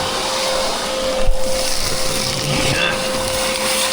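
A vacuum cleaner runs inside an old Western Star dump truck abandoned 25 years on a mountain, a steady close whirring hum with a bump and rattle partway through.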